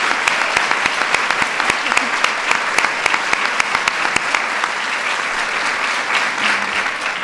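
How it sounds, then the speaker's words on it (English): Audience applause honoring two women military veterans at a formal celebration, sustained and lively clapping with crisp distinct claps up front, staying full throughout and tapering slightly near the end. "So let's give them both another round of applause."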